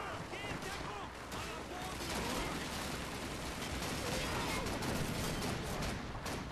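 Dense, continuous gunfire in the World War II video game Call of Duty 2, a sustained loud clatter of shots and battle noise throughout, with faint voices mixed underneath.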